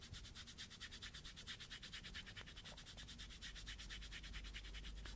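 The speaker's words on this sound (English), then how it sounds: "rub over top of the tape to activate the glue" Rapid back-and-forth rubbing strokes over applied kinesiology tape on skin, a quick, even rhythm of soft scratchy swipes, close and quiet.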